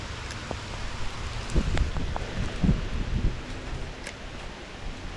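Rain pours down on people fishing outdoors, a steady close hiss of drops with scattered patters and soft rustling bursts, no talk.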